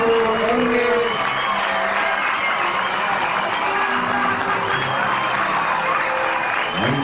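A crowd cheers and applauds a victory at a game-show goal celebration, a dense continuous roar of clapping and shouting with voices mixed in throughout.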